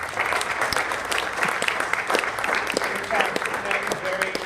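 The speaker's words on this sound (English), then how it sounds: "a round of applause for the organizers that put together this event." Audience applause at a startup weekend pitch day event honoring the organizers, a steady wash of many hands clapping at moderate level throughout, with some voices mixed in.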